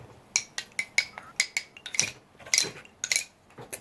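Sharp wooden clicks from tree-branch sticks knocked together in a quick, uneven rhythm, about a dozen strikes, close and moderately loud with no talking.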